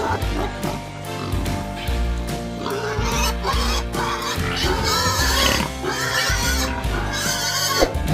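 Farm pigs oink, grunt and squeal in a loud, busy overlapping chorus, with several animals calling almost without a break.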